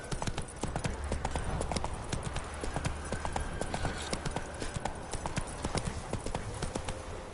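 Hooves of the horse Roach clip-clop in The Witcher 3 video game, a brisk, continuous, fairly close rhythm of clopping steps, with faint background voices at moments.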